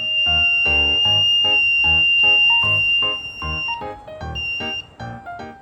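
A homemade rain sensor's buzzer alarm going off, triggered at random when water soaks into its wet base, sounding loud close-up beeping tones in a steady repeating rhythm that turns more irregular toward the end.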